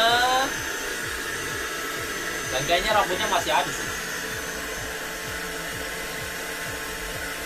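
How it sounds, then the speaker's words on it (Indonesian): A Mamibot UV Lite 100 vacuum cleaner runs with a steady, loud whining hum while someone talks over it, and a brief rattle comes through as it sucks up hair. "kalau misalnya saya sedot, saya jalankan vacuum cleaner di atasnya"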